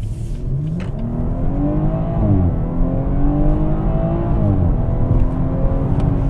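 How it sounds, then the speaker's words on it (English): A 2018 BMW 440i xDrive accelerates hard from inside the cabin, its engine note climbing steadily with a brief dip around a gear change, loud and continuous with no talking. "Let's start off with the mandatory acceleration run"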